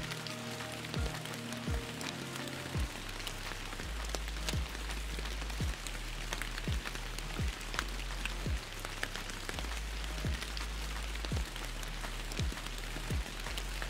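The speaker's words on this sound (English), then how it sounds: "now we get some rain" Rain in the fishing video game Fishing Planet at Emerald Lake, a soft, steady patter on surfaces over a low rumbling bed, with repeated faint thumps at regular intervals and no talk.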